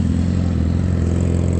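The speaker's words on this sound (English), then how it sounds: "that motorcycle that you hear" A motorcycle passes on a road, its loud, steady mid-pitched engine drone filling the moment without talking.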